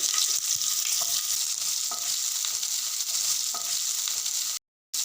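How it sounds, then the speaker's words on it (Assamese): Onions and chillies fry in hot oil with bay leaves and dried red chillies, a constant close sizzling hiss with a few soft clinks before a brief dropout near the end, no talk. "পিঁয়াজ আৰু জলকীয়াখিনি মই ভালদৰে ভাজি ল'ম"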